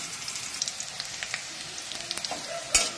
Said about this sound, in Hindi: जब तक प्याज फ्राई हो रहा है